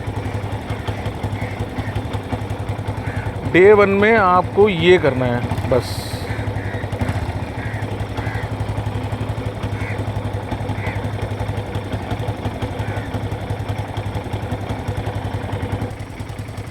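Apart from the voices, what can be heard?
motorcycle engine revving with throttle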